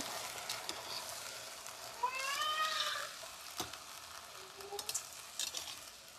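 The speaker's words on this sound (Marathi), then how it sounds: "तेलामध्ये मस्त परतवा" Washed moth beans frying in oil for misal, stirred in the pan, give a soft, steady close sizzle with light scraping clicks; a short cat-like squeal rises briefly near the middle.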